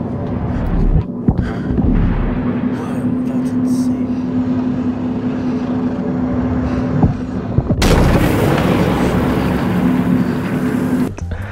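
Sonic boom shockwave explosions in the video game Inside: deep, heavy rumbling blasts with a sudden loud broadband burst partway through, then a sustained roar that cuts off sharply.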